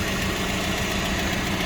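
A Toyota 7FGL15 1.5-ton forklift engine idles outdoors in warm weather, a dense, steady mid-pitched rumble with a faint knocking texture, loud and continuous with no talking.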